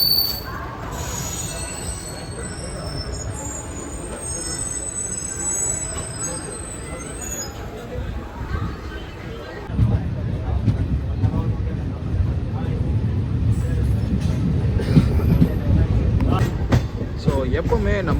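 Tirupati MEMU express train running along the rails from Chennai to Tirupati, a steady low rumble of wheels with faint high squeals early on, growing louder and rougher after the midpoint, with a voice talking over it.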